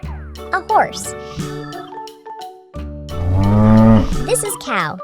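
A cow moos in a cartoon farm-animal scene for kids: a long, loud low moo swells over bouncy music, with earlier short cartoon effects and squeaky sounds.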